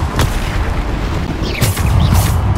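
A Bombarda spell explodes in Hogwarts Legacy, a loud, heavy boom with rumbling low-end blasts and sharp bursts layered over one another in quick succession.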